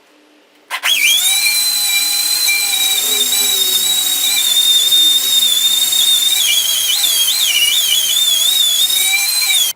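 Power tool, likely a grinder, cleaning up metal surfaces for welding prep, starting abruptly with a sharp hit and then running as a loud, steady high-pitched whine that wavers slightly in pitch near the end.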